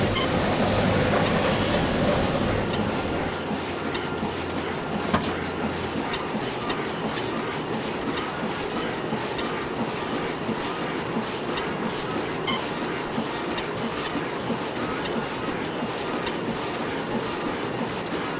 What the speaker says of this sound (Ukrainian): Це, напевно, Ганс робив до них потяг